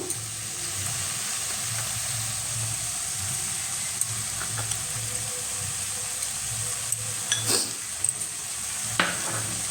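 Mushroom masala with salt stir-fried in a pan, a soft continuous sizzle with scraping and stirring, occasional clinks of the utensil against the pan, close and fairly even.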